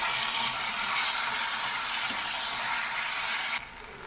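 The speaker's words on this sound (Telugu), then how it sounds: "ఇప్పుడు దీనిలో మామిడి తురుము వేయాలి. ఒకసారి దీన్ని వేయించుకోవాలి." Grated raw mango sizzling in a hot oiled pan for mango pulihora: steady, close bright frying hiss throughout, dropping abruptly quieter near the end.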